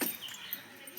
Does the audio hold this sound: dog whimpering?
yes